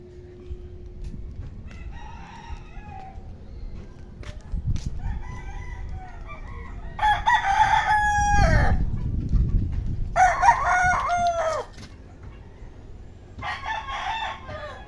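Roosters in a Laguna, Philippines backyard crow several times in long, loud calls, with clucking and other farmyard sounds filling the gaps in between.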